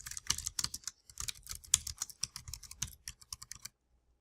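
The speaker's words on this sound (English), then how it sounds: "I can come down here to the document and start typing." Someone types on a computer keyboard into an online document, producing a quick, irregular run of close, crisp key clicks that stop near the end, with no talking.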